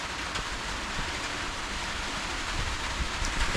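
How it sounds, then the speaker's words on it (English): Rain falling outside, a steady dense hiss of drops on surfaces, fairly soft and continuous without voices. "Yes, it's raining outside,"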